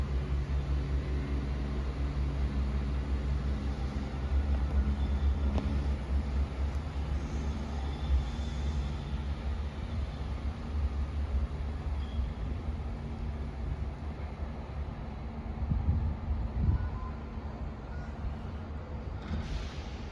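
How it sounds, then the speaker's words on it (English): Three-carriage ScotRail Dundee to Edinburgh Waverley service departing Haymarket station, a steady low rumble and rail hiss heard from the platform, continuous and moderately loud for the whole stretch. "Departing out now is the 1508 ScotRail service from Dundee to Edinburgh Waverley"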